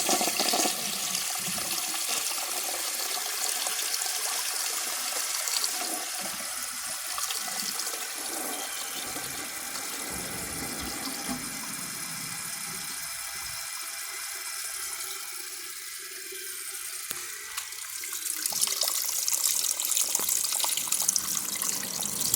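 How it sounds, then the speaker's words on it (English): A 1987 Norris toilet flushes with a dish towel in the bowl, a loud rushing gurgle that settles into a steady hissing refill, with a low tonal drone from the filling valve and a louder surge near the end. "I'm going to try giving it another flush on the water that's left in the tank."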